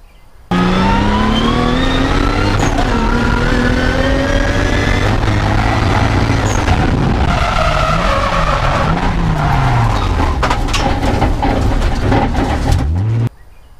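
A drift car on a track loses its steering and runs straight off the course. The engine drones loudly throughout, the tyres squeal and whine with pitch sweeps, and the sound cuts off abruptly at the end.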